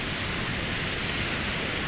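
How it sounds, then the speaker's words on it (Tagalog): Big ocean waves crashing in rough weather, a dense, unbroken roar of surf that fills the sound evenly and loudly throughout, with no voices. "Parang 6 feet ang lalaki ng alon."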